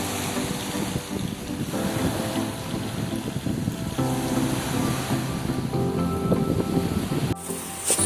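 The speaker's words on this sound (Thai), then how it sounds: "ในช่วงเช้า น้ำทะเลขึ้นมาถึงริมตลิ่งแล้วนะครับ" Continuous rushing wash of morning high-tide sea waves breaking at the shore by a resort, a steady broadband roar with gentle surges, fairly close.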